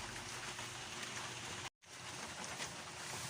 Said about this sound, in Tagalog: Di ko lang alam kung matutuloy kasi umuulan eh. Maambon-ambon.